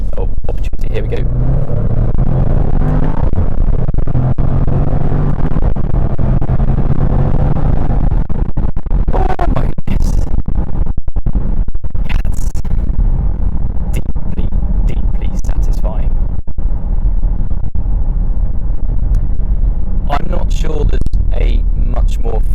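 A Jaguar F-Pace SVR engine rumbles steadily and loudly from inside the cabin while driving, with a deep drone and rising revs under continuous talk.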